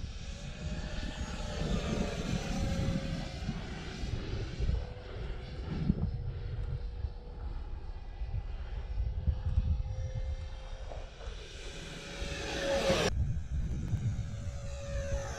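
An Arrows T-33 Shooting Star RC model jet on a 4S 1300 battery flies overhead in wind, its electric ducted fan a steady whining roar that rises and fades as it passes.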